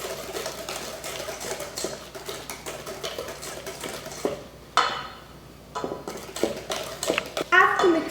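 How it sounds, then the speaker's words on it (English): A holiday food mixture being stirred in a bowl, with rapid repeated scraping and clinking of a utensil against the dish, close and fairly loud, pausing briefly midway before resuming. "Now make sure to mix it."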